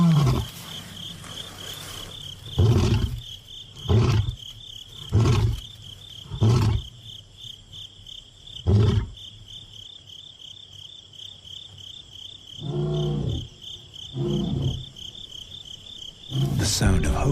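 A lion named Banda roars in a series of deep, rhythmic grunting calls, loud and close, spaced a second or two apart, while a steady chorus of crickets chirps throughout behind them.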